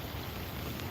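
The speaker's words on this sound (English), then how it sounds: "We out in the rain, man." Rain falling outdoors during a fishing trip, a dense, even hiss of drops filling the brief moment with no speech.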